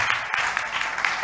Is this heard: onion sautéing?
no